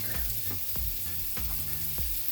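Onion and shallot sautéing in two tablespoons of melted butter, a close, steady sizzle broken by a few soft spatula scrapes, with no talking.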